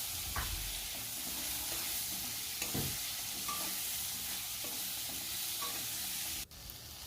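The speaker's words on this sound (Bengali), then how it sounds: "ভালো করে আমি পটলটাকে ভেজে নিচ্ছি।" Pointed gourd stirred and fried in a pan makes a continuous close sizzle, broken by occasional scrapes and clacks of a spatula against the pan, with no talking.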